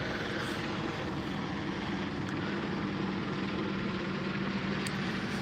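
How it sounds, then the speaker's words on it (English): A helicopter circles overhead, its engine and rotor drone forming a steady, fairly loud rumble that holds without a break and without voices. "Got a fucking chopper up head, man. Just going around in circles and shit, dude."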